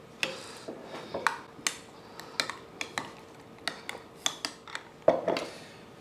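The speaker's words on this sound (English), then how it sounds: "Stir this up." Coleslaw mix with yogurt, lemon zest and cilantro stirred in a bowl: a run of sharp, irregular clinks and scrapes of a utensil against the dish, close and fairly quiet, with no talking.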